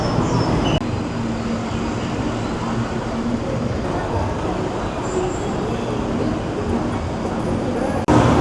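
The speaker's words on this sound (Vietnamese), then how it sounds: "để đi được tới đó mình sẽ đi bằng tàu điện BTS nhé" Bangkok BTS Skytrain, an elevated electric train, gives a steady, loud, continuous rumble and hum with traffic-like wash, holding level for several seconds with a brief clunk near the start and end.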